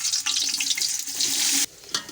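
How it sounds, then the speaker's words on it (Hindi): Onions hit hot ghee in a pan for a paya trotters dish, giving a loud, close, hissing sizzle that cuts off abruptly partway through, followed by a brief softer flare. "तो फिर सबसे पहले जो है मैं इसमें प्याज शामिल करूँगी।"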